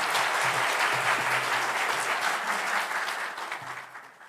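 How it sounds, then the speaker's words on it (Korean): A church congregation claps together during a Sunday service, a dense, steady wash of applause that holds strong before gradually thinning and fading toward the end. "우리 영광의 박수를 올려드리도록 하겠습니다"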